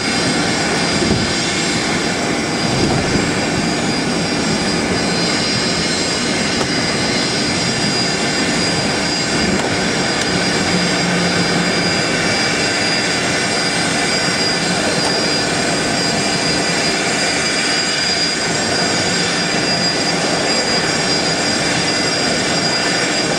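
Jet engines of a Fokker 100 airliner at full power during takeoff from runway 27R, a loud, steady, dense roar heard from inside the aircraft and lasting throughout with no talking.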